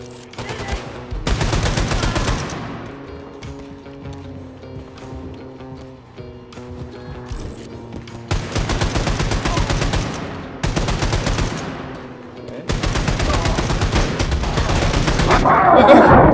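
Wolfenstein 2 gunfire, long sustained bursts of rapid automatic shots in three loud stretches separated by quieter gaps, over a steady game music bed.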